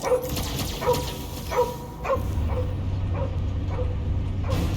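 Cosmo, the space dog in the Guardians of the Galaxy video game, whimpers and yelps in a run of short, pitched cries, several close together at first and then fainter ones over a low rumbling game backdrop.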